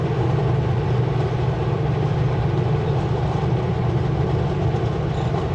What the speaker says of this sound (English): That's a loaded coal train there.